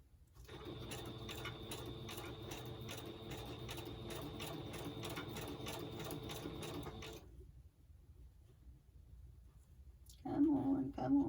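Sewing machine stitching through scrunched paper ephemera, a steady rapid mechanical rattle for about seven seconds that stops abruptly, followed by near silence and a short burst of speech near the end.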